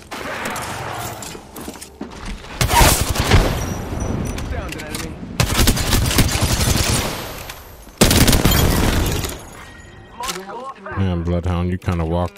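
Bursts of automatic gunfire in the Apex Legends video game come in several sustained volleys, loud and broadband, with short gaps between them and a voice talking over parts of the firing.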